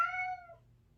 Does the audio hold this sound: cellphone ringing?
no